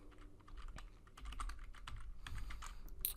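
Fingers tap a password out on a computer keyboard, a quick irregular run of close, crisp keystrokes over a faint background, with no voices.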